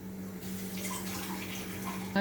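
Water tipped from a bowl into a kadhai on a gas stove for sabudana kheer, a brief soft rushing pour over a steady low hum.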